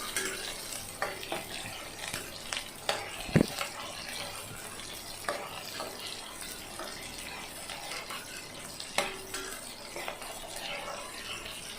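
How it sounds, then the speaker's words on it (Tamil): Small onions (shallots) stirred and sautéing in a pan for a jackfruit kurma, a low steady sizzle with scattered scraping clinks of a spoon against the pan, no talk. "இப்போது சின்ன வெங்காயம் நமக்கு பொன்னிறமாக வதங்கி வரணும், அது வரைக்கும் வதக்கிக்கலாம்"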